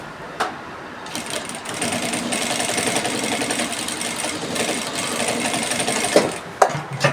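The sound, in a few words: sewing machine top stitching a side pocket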